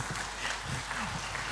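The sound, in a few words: applause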